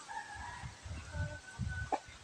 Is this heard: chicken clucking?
yes